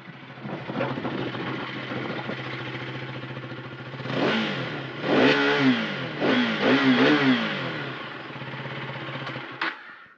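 A motorcycle engine idles steadily, then the throttle is blipped several times in quick bursts, each rev rising and falling before settling back to idle.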